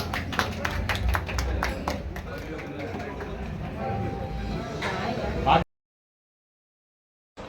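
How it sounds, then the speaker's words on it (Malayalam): Hands clapping at a shop inauguration in Edava, Kerala: a dense, steady burst of crowd applause with overlapping talk and chatter, running loud for several seconds before cutting off abruptly. "കൈയടിച്ചോ കൈയടിച്ചോ കൈയടിച്ചോ"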